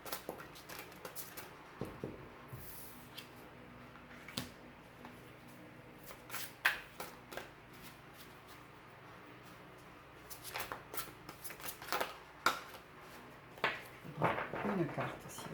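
Cards shuffled by hand for a tarot-style reading, giving soft papery riffles and taps in scattered bursts that grow busier toward the end, quiet and close, with a voice speaking faintly in between.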